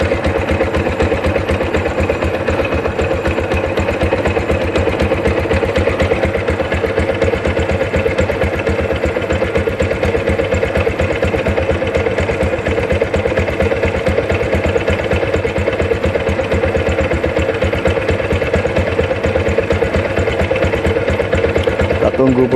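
A motorcycle engine idles steadily while warming up on a morning start, a loud, constant mid-pitched chugging that holds even and unbroken throughout with no pauses.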